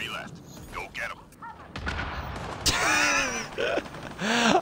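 Gunshots in Mass Effect Andromeda multiplayer, a few sharp cracks early on followed by a louder blast, mixed with in-game effects and vocal sounds.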